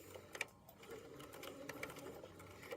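A sewing machine runs briefly, stitching a few stitches forward and then back-stitching, making a close, steady mechanical whirr with quick clicks while a drawstring backpack side seam is sewn.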